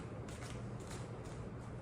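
Soft, steady rustle of tarot cards being shuffled, a continuous papery riffling with slight swells, close by and fairly quiet, no talking.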